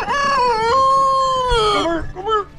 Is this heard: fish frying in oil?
no